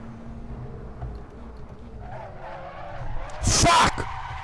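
Race car tyres skid and squeal under heavy braking in a sim racing game at Bahrain's Outer Ring, a sharp, loud screech flaring near the end over a steady engine drone.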